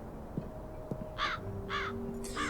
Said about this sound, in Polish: O, tutaj będzie jeden z kruków.